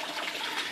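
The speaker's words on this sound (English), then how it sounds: "the water starts in the sump, gets pumped out to the grow bed" Water pumped from an aquaponics sump pours steadily into a grow bed, a soft continuous gushing and splashing with no break.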